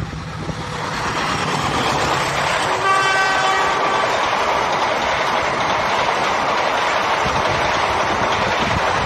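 A KA247 Logawa passenger train rolls steadily through a level crossing in Indonesia. Its horn sounds briefly early on, and a loud, continuous rumble of wheels and carriages fills the whole stretch, with no voices.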